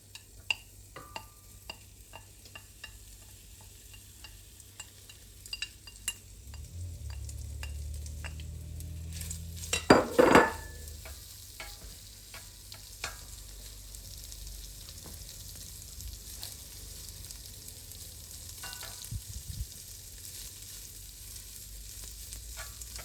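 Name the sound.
sheep tail fat frying in a pan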